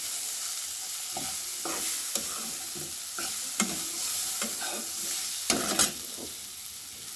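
Spices fry in a pan with water just added, giving a continuous hiss of frying while a spoon scrapes and clatters against the pan in irregular strokes, close and without talk.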